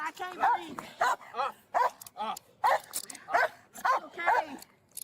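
A dog barks and whimpers in a run of repeated yips and whines, fairly close and loud, in an uneven rhythm with brief pauses between calls.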